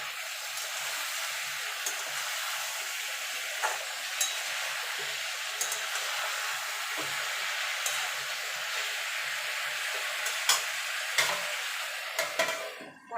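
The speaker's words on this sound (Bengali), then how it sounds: "ঢাকা দিয়ে দিয়ে একটু ভাজা ভাজা করে নেব। মাঝে মাঝে কিন্তু নাড়তে হবে।" Mixed vegetables, cooked plain without spices, fry in a covered pan with a soft continuous sizzle, broken by occasional scrapes and light clicks as they are stirred, fairly quiet and steady throughout.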